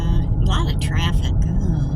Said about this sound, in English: A lot of traffic.